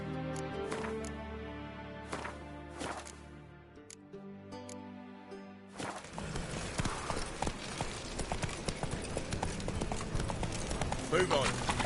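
Hooves of the horse Roach clip-clop in The Witcher 3, first under game music, then a denser rush of galloping hoofbeats amid louder effects and noise in the second half.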